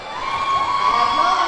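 Roller derby crowd in a sports hall cheering and shouting, a dense continuous roar with whoops rising over it, loud and reverberant, with voices mixed into the din.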